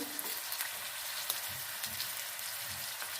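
Minced beef frying on a flat tawa with crushed garlic, ginger and tomato added, giving a steady close sizzle and crackle with faint stirring scrapes, no voices.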